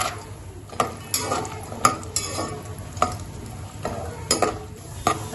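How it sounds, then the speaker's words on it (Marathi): Cashews roast in ghee in a pan, a continuous sizzle broken by repeated sharp scrapes and clinks of a spoon stirring against metal, close and fairly loud, with no talking. "तुपात आपण काजू परतून घेऊया"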